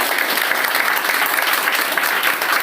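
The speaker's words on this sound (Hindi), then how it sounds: "तालियां मार दो यार" Steady audience applause at a motivational talk on struggle and success, a dense, even wash of clapping filling the whole stretch with no pauses and no voices over it.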